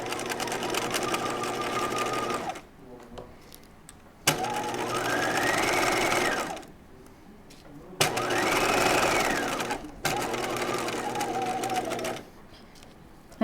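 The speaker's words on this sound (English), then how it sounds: "we're going to go ahead and sew this dart following your marked line here." Sewing machine stitching a dart on a halter top: steady, loud mechanical whirring runs in three long bursts of about two to four seconds, separated by brief quiet pauses and small clicks.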